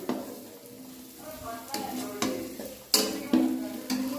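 Homemade garlic and spice masala roasting in a pan, with a low sizzle under repeated sharp scrapes and clanks of a spoon against the pan.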